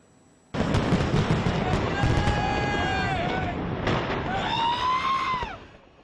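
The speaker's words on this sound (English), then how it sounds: "the New Year was welcomed with a fireworks display across the River Thames." New Year fireworks over the River Thames in London at midnight, heard as a loud dense barrage of crackling bursts and booms with whistling rockets rising and falling in pitch, crowd noise and possible voices mixed in.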